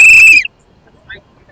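A cricket fan whistles loudly and piercingly in a single sustained blast during celebrations after a CSK win over MI, followed by near silence with a brief faint chirp.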